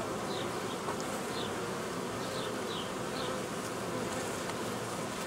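Steady, dense insect buzzing fills the whole stretch, like many honeybees humming close by, with a few faint higher chirps over the drone.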